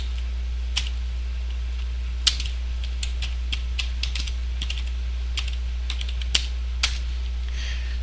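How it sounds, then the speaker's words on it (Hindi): Keys on a computer keyboard are struck in an uneven run while a passphrase is entered, crisp separate clicks over a low steady hum, with no voice. "टाइप करता हूं"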